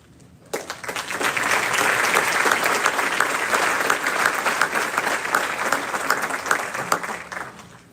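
An audience at a school class day awards ceremony breaks into loud, sustained applause after a list of student names, many hands clapping densely for about seven seconds before tapering off.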